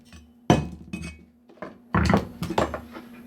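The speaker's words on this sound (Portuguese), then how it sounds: "Bater a escória dela." Hammer chipping slag off a fresh weld bead on metal, a few sharp metallic clinks and thunks in short bursts, close and loud with quiet gaps between strikes.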